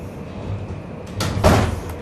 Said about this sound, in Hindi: तो दरवाजा बंद कर बेटा